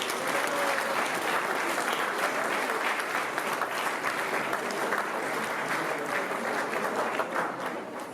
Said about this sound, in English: I'm going to close by asking you to give one more round of applause to Mrs.